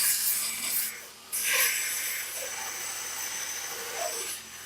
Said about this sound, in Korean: 단계에서는 기존에 사용했던 벨트는 제거하고 표면이 더 거친 벨트가 사용됩니다